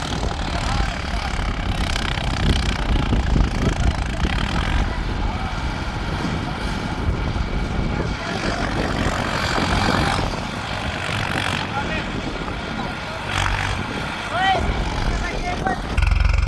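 A Farmtrac tractor engine chugs in low gear at slow speed through boggy ground, a continuous rough, throbbing drone with people talking over it.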